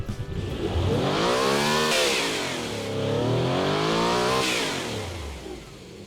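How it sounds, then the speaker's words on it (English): Car engine built in the Automation game revving up and down, loud and continuous, pitch climbing and falling in smooth sweeping waves with no talk. "let's move along and give this engine a bit of a listen"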